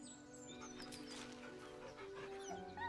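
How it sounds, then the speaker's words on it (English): Nervous whimpering from a dog in the video game Baldur's Gate 3, soft, thin whines rising over a quiet bed of game music and ambience. "The dog whimpers nervously,"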